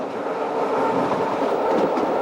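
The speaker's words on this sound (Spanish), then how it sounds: "El paso de las ruedas por esas separaciones daba al tren ese traqueteo tan suyo." Train wheels clatter over rail joints in a continuous rumbling rhythm, loud and close, with the clickety-clack of the wagons rolling along the track.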